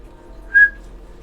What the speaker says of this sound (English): can I whistle still?